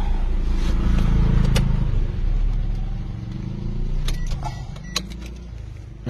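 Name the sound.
Toyota Avanza engine running rough, needing tune-up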